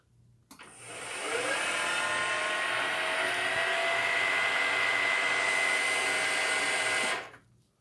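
A 1.5 hp gear-driven motor on a Precision Matthews milling machine running on 110 volts switches on, whirs at a steady, fairly quiet hum for several seconds, then winds down and stops.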